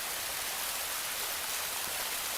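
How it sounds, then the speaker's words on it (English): Water runs down a toy water slide mat into a stream pool, giving a steady, even rushing hiss that stays constant throughout with no talking. "let Bluey and her family we slide down the waterfall into the stream"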